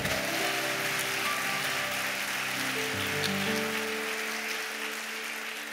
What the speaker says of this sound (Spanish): Vamos, dale un aplauso fuerte a Dios